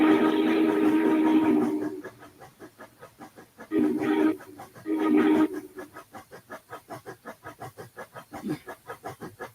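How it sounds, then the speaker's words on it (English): Steam locomotive chuffs in Train Simulator 2021 come as a rapid, even beat of short puffs, interrupted by a few louder, longer blasts of steam. "if I move the camera to the front of the locomotive, the chuffs start having problems"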